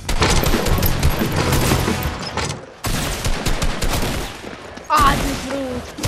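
Rapid bursts of automatic gunfire rattle loudly through a Fortnite match, with dense volleys broken by a brief pause near the middle, then another sharp burst and a short rising electronic tone.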